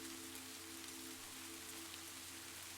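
Soft rain tapping on a window pane, a faint steady patter of drops with a low hum beneath, continuous and calm with no voices.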